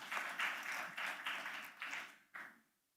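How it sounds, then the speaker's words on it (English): Conference delegates at a magistrates' and judges' annual meeting clap for a promoted magistrate, with several loud surging bursts of close applause that fade quickly to silence at the end. "Let's clap for her as well."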